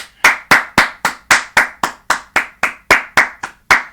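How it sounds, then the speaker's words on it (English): Fourteen steady, sharp hand claps at an even pace, close and loud, with each one dying away quickly before the next. "Clap it up for him. Clap it up."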